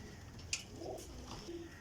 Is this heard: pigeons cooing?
yes